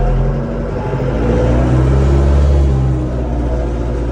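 Lovol 504 tractor engine pulling away in first gear, a steady low mid-pitched rumble that swells slightly as it moves off, continuous and close throughout with no talk.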